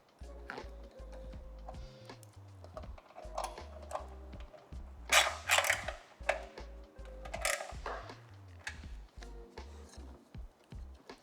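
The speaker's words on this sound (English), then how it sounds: "using the same bolt, we're going to bolt in our bracket holding our wideband controller" A bolt is fastened to secure a wideband controller bracket inside a Nissan R34 GT-R during a Powertune Australia M1 plug-in ECU install, giving quiet, irregular ticking ratchet clicks and small metallic clanks.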